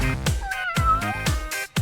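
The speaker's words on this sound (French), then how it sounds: "Sois sage, petit chaton!" A kitten meows repeatedly in short, loud, rising calls with a steady rhythm, alone and close up, with no talking.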